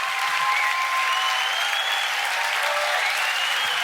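A live audience claps after a startup pitch, dense sustained applause from a crowd at an even loud level with no gaps.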